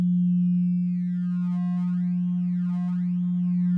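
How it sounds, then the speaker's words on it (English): A steady, near-sine electronic tone from a Polygogo synthesizer oscillator, holding one low pitch, with faint upper overtones sweeping and wobbling gently in the background. "So it's not a true sine wave, it's just close enough."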